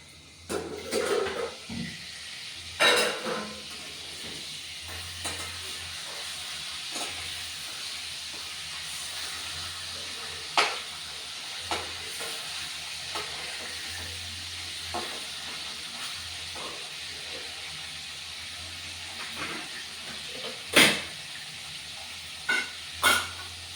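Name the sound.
Shankar fish frying and sizzling in a pan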